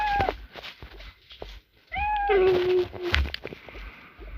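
A cat in the Toca Boca game meows several times while eating, short drawn-out cries close by, with soft clattering and shuffling noises between them.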